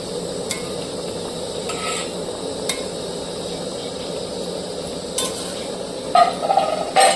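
Fried rui fish goes into a simmering curry gravy made with black cumin paste, giving a steady loud bubbling sizzle with a few sharp clinks of a utensil against the pan.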